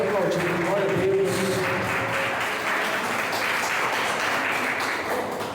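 A church congregation claps steadily in a dense, continuous wash of applause, with a brief tonal voice or music line near the start.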